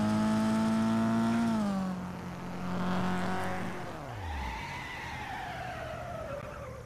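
Engine of a car racing down the finish straight in the video game FlatOut, a loud sustained whine that shifts down in pitch, then drops away with tire skidding and squeal, no talk.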